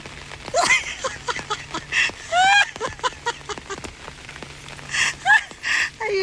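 Rain falling during a casual outdoor moment, a steady soft hiss of drops running beneath the whole stretch, partly covered by repeated quacking or squeaky calls and animated voices.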